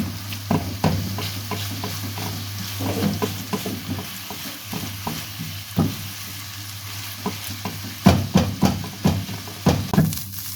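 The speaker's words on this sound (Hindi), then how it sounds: "तीन से 4 मिनट हमने कीमे को फ्राई करना है।" Minced meat keema fries with a steady sizzle while a spatula scrapes and taps the pan in irregular strokes, close and clear, with a faint low hum beneath.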